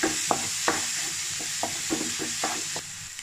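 Onion frying in a pan with spices, a steady sizzle broken by repeated clicks of stirring, close and continuous.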